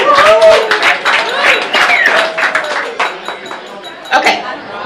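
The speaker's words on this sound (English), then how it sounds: "Let's have a round of applause, please." Applause from a gala crowd at a black-and-white event in Vallejo, with dense clapping and chatter running throughout, some clinks and a loud voice cutting through near the start.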